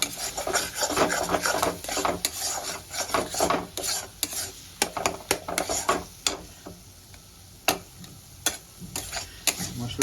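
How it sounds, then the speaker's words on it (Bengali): Spices are stirred and sautéed in a pan for a potato and chana dal curry: a series of sharp spatula scrapes and knocks in an uneven rhythm over a faint background sizzle, fairly quiet and close. "মশলাটা যত বেশি সুন্দর করে ভাজা ভাজা করবো তত বেশি টেস্ট হবে"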